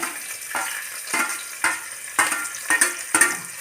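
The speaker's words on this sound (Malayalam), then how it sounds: "ഇനി ഈ ഗ്രീൻ പീസും കൂടി ഇതിനകത്തോട്ട് ഇടാവേ" Green peas tossed into a frying idiyappam stir fry sizzle steadily, broken by a series of regular scraping stirs of the spatula in the pan, about one every half second.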